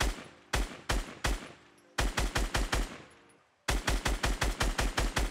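Gunfire in Fortnite Battle Royale, with sharp close shots in single spaced bursts, then a rapid run of about a dozen rhythmic shots at the end, with echoing decay between them.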